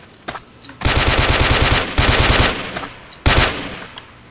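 Automatic gunfire in the blocky shooter game Ace of Spades, with two long, loud rapid bursts followed by a shorter third burst, each standing alone without voices.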